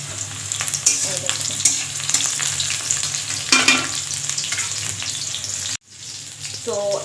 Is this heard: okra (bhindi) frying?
yes